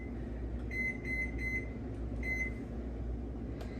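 A kitchen timer beeps in four short, bright electronic bursts, three in quick succession and then one more after a pause, clear over a steady low hum of the kitchen.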